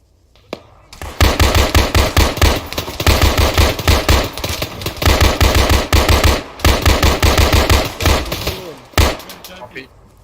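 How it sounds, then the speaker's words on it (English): Heavy sustained gunfire in the military simulation game Arma 3, loud rapid automatic bursts nearly continuous for most of the clip with brief pauses, close and dominant, a quiet lead-in and a single sharp shot near the end. "Taking fire west."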